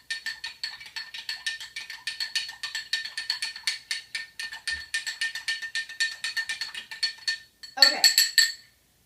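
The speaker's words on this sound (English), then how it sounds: "then we will stir it for about 10 to 20 seconds" A spoon stirs liquid in a cup for an iodine science experiment, producing a fast steady run of close bright clinks against the cup, ending in a louder brief rattle.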